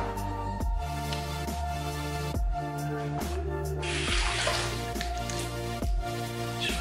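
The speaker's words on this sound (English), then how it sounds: "Just quickly rinse off the alum." Tap water running into a sink while alum is rinsed off after a wet shave, a steady close splashing stream under a background of repeating musical tones.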